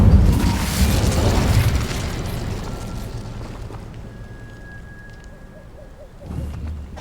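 The Incendio fire spell in the Hogwarts Legacy video game erupts with a loud booming burst and a crackling roar. The flames fade over several seconds into a quieter hum, and a short rumble returns near the end.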